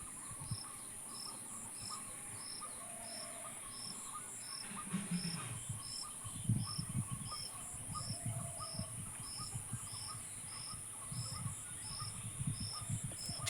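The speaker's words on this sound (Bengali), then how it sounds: "চারিদিকে ঝিঝি," Crickets chirp in a steady, regular pulsing trill around a quiet village in the early morning after a storm, with faint low rustles and thumps nearby but no talking.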